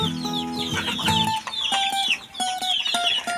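Shamo chickens in a backyard cluck busily at feeding time, with several birds close by giving repeated short clucks and a few higher calls.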